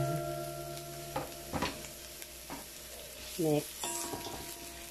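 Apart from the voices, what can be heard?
sliced onions sizzling in frying pan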